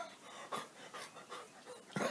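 A man imitates a dog panting with his tongue lolling, giving a few quick breathy huffs in an uneven rhythm, fairly quiet and close.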